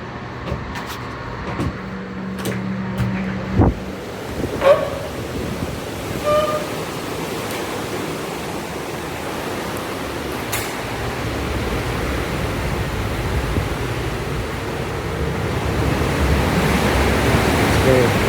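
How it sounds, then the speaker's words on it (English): Broad, rushing wind noise on the promenade deck of the cruise ship Queen Victoria buffets steadily and grows stronger toward the end, with a few knocks and thumps early on. "See how windy it is."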